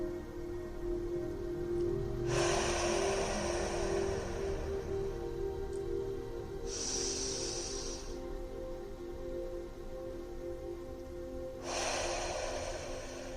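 Slow breaths in a guided relaxation session: three long, soft airy exhalations through the mouth, close and unhurried, separated by quiet pauses over a faint steady hum.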